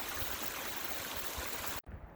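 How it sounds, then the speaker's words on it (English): Water trickling steadily at Shooting Star Spring, a high-country spring on San Jacinto a few tenths of a mile below Little Round Valley; a close, continuous wash of flowing water that cuts off abruptly near the end, leaving a quieter tail. "There's water trickling as usual at Shooting Star Spring"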